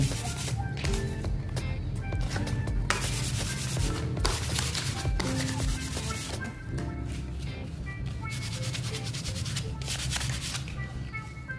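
Steady, close scraping and rubbing as the middle spine of an old bamboo kite is scrubbed clean. The abrasive strokes continue without pause throughout.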